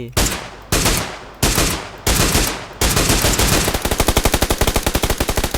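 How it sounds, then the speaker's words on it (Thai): Gunfire from the video game PUBG Lite starts with a few spaced, heavy single shots, then breaks into a fast, continuous automatic burst, loud and close with no talk over it. "ยิงเร็วยิงเร็ว"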